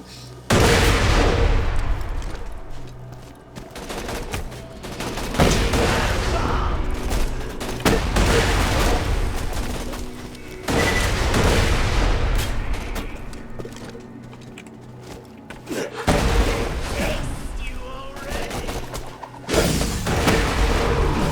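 Rocket launcher blasts and explosions in Borderlands 2, with loud booming detonations repeating every few seconds over sustained gunfire and rumbling, close and dense throughout.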